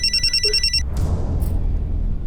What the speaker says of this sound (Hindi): सलीम जी फोन लीजिए और जैसा वो करने के लिए कहे आप करते रहिए